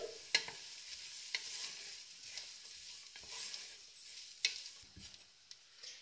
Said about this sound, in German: Jetzt gebe ich die Kokosnussraspeln dazu. Kurz mischen.